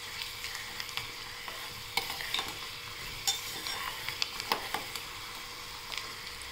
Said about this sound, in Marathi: तेलात परतून घेऊया.